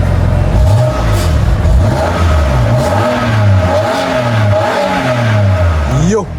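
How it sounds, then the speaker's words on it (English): A car's 3-litre straight-six engine revs up repeatedly from idle, rising and falling sweeps close by, with a person talking over it. "So let me just give you guys a rev quickly."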